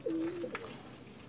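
A racing pigeon returning during club training gives a soft, low coo, a short throaty call followed by a faint second note against quiet background.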